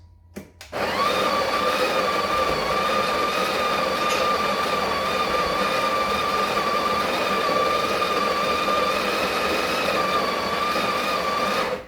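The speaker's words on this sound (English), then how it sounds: "So you just grind your beans." An espresso-machine coffee grinder whirs through a dose of beans after a short click, its high motor whine steady and loud for the rest of the run, with no other sounds.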